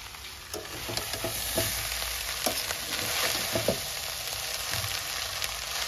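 Rice with egg, onion, tomato and green chili fries in a wok, giving a steady sizzle broken by scraping stirs and clinks at irregular intervals.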